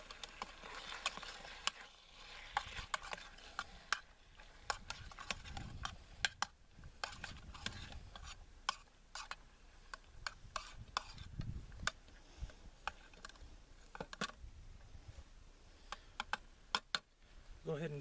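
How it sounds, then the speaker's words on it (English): A spoon stirs green chile in a metal canteen cup, giving faint, irregular scraping and clinking clicks over a soft, low background, with no talk. "Go ahead and give this a good mix."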